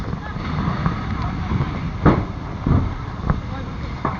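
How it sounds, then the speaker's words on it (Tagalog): Strong wind buffets the microphone at a third-alarm fire response in a Quezon City street, a constant rumbling roar with sharp gusty thumps scattered through it. "Lakas ang hangin"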